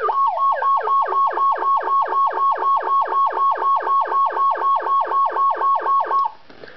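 Powercall DX5 electronic siren in whoop tone, loud rapid downward-sweeping whoops repeating about twenty times in a tight, steady rhythm before cutting off abruptly, no voices.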